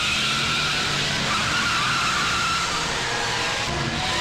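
A car speeds along during a police chase in a Hindi-dubbed South Indian action film, with a continuous loud roar of engine and tire noise and a sustained skidding squeal, no voices heard.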